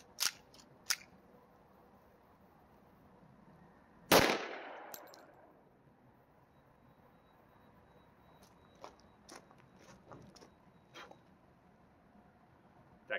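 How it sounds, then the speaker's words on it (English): A 1911 pistol fires at a shooting range from about five yards: one loud, sharp shot with a ringing decay stands out, and fainter distant pops from other shooters on the range are scattered around it. "For the last couple mags, we're going to shoot from 5 yards just because I want to see if it is accurate."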